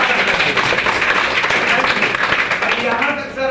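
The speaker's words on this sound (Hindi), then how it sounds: "एक बार फिर से सुधांशु सर के लिए तालियां बजाएं।" A seated audience at a training seminar claps for the presenter, a dense even patter throughout with some crowd noise beneath.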